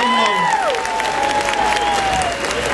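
Sustained applause from a large crowd, dense and steady throughout, with a loud voice or music tone carrying over the clapping.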